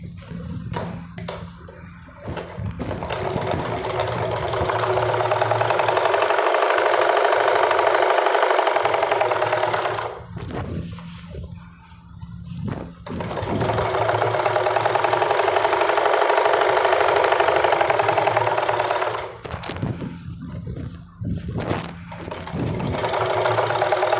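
A sewing machine stitching the seam of a kachhera, long loud bursts of rapid motor-driven whirring close by, separated by short pauses, with no talk.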